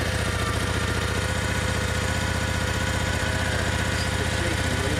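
A Moto Guzzi Nevada 750 motorcycle engine running steadily just under 2,000 RPM, a close, continuous rumbling throb with an even pulsing beat and no pauses.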